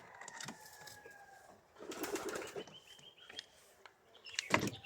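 Pigeons coo softly inside their coop houses in a few scattered calls. Light rustling and knocks sit between them, and a louder burst of movement comes near the end.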